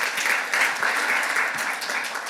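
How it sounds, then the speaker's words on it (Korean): An audience at a Korean business talk on innovation gives a speaker steady, dense applause that holds at an even level throughout. "박수 부탁드립니다."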